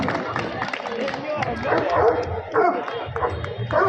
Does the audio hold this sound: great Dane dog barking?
yes